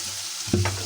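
Bottle gourd dropped into a pan of frying spice mix, a quiet sizzle that jumps into a sudden louder hiss and crackle partway through the short moment.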